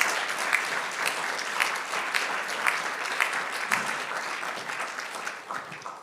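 Lecture audience applauding at an inaugural professorial lecture: dense, even clapping from a crowd held at a steady moderate level, a few sharper claps standing out near the end.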